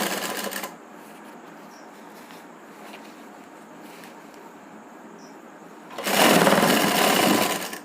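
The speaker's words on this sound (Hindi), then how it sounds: "इस तरह से बैठा के मशीन लगाएंगे।" Sewing machine stitches salwar panels together in fast continuous bursts, one run at the start and another loud run near the end, with quieter handling of the fabric between.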